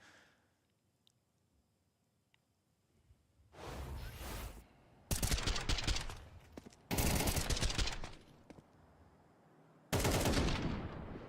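Loud bursts of automatic gunfire from a Counter-Strike 2 match at a major tournament come in four separate dense volleys after a quiet stretch with small clicks.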